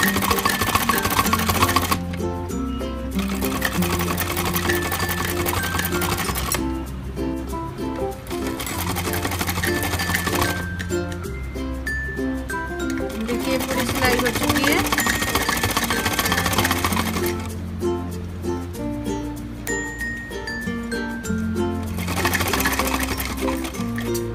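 A sewing machine stitches a designer kurti in long continuous runs broken by short pauses, its steady mechanical whir close and loud, with someone talking over parts of it.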